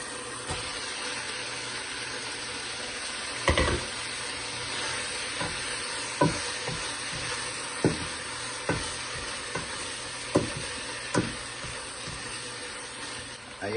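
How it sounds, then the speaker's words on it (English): Eggs are added to a hot pan while making shrimp, beef and veggie empanada filling, giving a low, steady sizzle punctuated by regular clinks from stirring. "Now I'm going to add the eggs."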